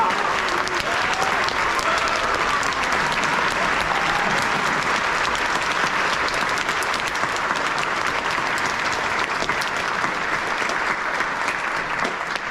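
Dense, sustained applause from a concert audience rewards the student musicians of a high school honor band, a loud continuous wash of clapping that holds evenly from start to finish.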